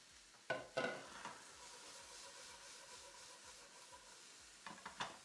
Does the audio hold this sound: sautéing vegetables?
yes